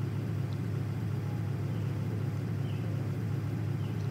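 A car drives in a mining video game, giving a steady, low engine rumble that holds even throughout with no other sounds.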